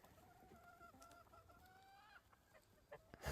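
Backyard chickens feeding on compost give a run of repeated clucks and drawn-out calls, several overlapping phrases in close succession, moderately near, followed by brief knocks and a louder thump at the end.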